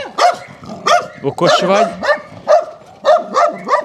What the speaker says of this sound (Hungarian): itt ugatatom a kutyáit